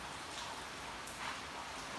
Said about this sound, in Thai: นี่บรรยากาศฝนตกครับ